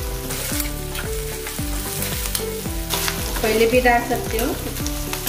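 Whole spices such as bay leaf, black cardamom, green cardamom, cinnamon, cloves and black peppercorns frying in oil with onion and chili for stuffed karela, a close steady sizzle with stirring, under background music and brief talk.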